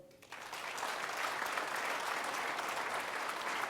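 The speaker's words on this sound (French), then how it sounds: "Merci de l'applaudir." At a New Year's greetings ceremony, an audience breaks into applause after a quiet moment, rising quickly into a full, steady roar of many hands clapping that holds evenly to the end.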